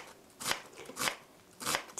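A knife chops a firm white onion finely on a board, three soft, separate cuts close by and quiet, with no talking.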